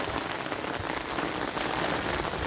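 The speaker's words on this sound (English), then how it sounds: "Sorry for the noise, we're in the middle of a somewhat bigger rain event." Heavy rain pours steadily and loudly onto the ground and nearby surfaces outdoors in Burundi, a dense, unbroken hiss with no talking.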